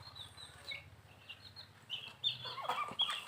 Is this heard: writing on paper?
no